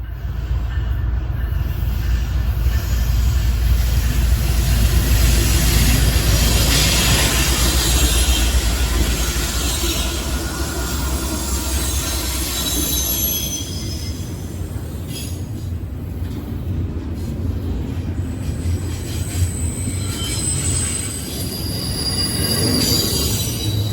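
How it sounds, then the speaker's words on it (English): An intermodal freight train headed for Chicago rolls past with loud, sustained wheel squeal and steady rail rumble, heard near and alone for the full length without any talk. "This is intermodal I-135, daily and headed for Chicago."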